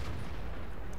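Artillery fire in the World of Tanks video game lands as a loud, deep boom with a rolling rumble that fills the whole brief moment.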